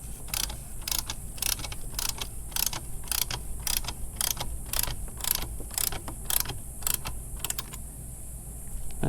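A bolt on a Super Grip tire chock is tightened down between two tires, giving a steady run of close, crisp ratcheting clicks at an even pace.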